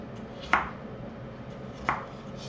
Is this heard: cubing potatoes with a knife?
yes